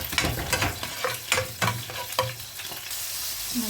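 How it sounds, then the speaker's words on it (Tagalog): Bitter gourd (ampalaya) sautés in a pan, loud and close, with repeated spatula scrapes and clanks over a constant sizzling hiss. "Igisa na po tayo sa ating ampalaya."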